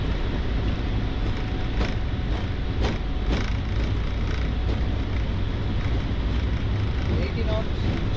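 Boeing 777-300ER jet engines spool to takeoff thrust, heard from the cockpit as a loud, steady broadband roar with rushing airflow. Faint clicks come through, and crew voices cut in briefly underneath.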